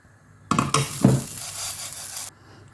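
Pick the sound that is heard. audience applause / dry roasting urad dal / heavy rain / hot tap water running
dry roasting urad dal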